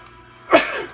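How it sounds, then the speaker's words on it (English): A single sharp sneeze bursts out close by, quick and loud, against a quiet room. "That was a good sneeze."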